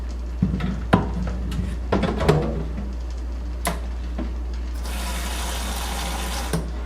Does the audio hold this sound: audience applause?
no